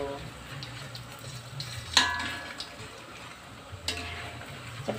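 Cimol dough made from white rice is stirred in a pan, giving soft scraping and a few sharp clinks of a utensil against the pan, close and quiet over low background hiss.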